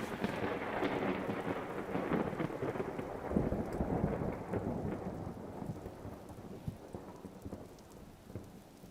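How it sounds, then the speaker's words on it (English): Steady rain pours and rolls of thunder rumble through a thunderstorm in the survival video game Vintage Story, loud and continuous with no talking. "Rain, rain, go away! I have to deal with you IRL! I would rather not deal with you in-game for so long!"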